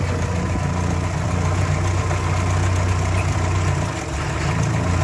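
A Morris Minor engine with a freshly rebuilt carburettor, new needle valve and gaskets idles smoothly and steadily, a close, even low hum that holds throughout with no voices.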